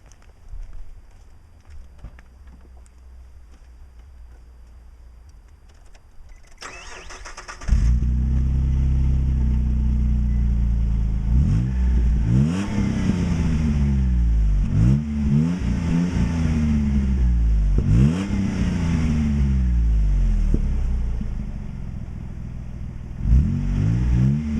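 A 2002 Nissan Xterra fitted with an AutoZone Thrush glasspack exhaust starts after a quiet lead-in, then settles into a loud, deep idle punctuated by four or five sharp revs that rise and fall, heard up close with no talking.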